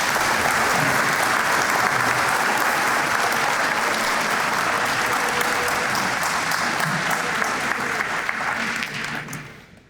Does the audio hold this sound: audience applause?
yes